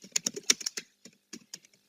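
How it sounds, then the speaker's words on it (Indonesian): Quick bursts of keystrokes on a computer keyboard while text is typed into Microsoft Word, a close, quiet clatter of about a dozen taps with a short pause midway. "Baru kita ketik kepala TK"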